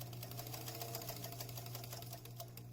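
A sewing machine runs steadily, stitching the fabric sleeve of a French horn instrument mask with a fast, even mechanical whir and rhythmic needle clatter, close and alone.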